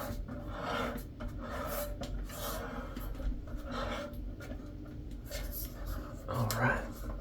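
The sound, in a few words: shower head being screwed onto pipe by hand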